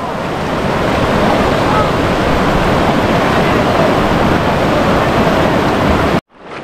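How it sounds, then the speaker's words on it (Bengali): A strong river current at Bogamati rushes in a loud, steady roar of water and wind-buffeted turbulence close to the microphone, cutting out abruptly near the end. "এবার নদীর যেই জায়গাটায় প্রচণ্ড স্রোত সেই জায়গাটায় চলে এসেছি।"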